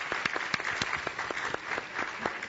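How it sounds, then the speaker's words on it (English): An audience at a congressional caucus plenary panel gives a round of applause, steady dense clapping at moderate loudness lasting a couple of seconds. "Round of applause."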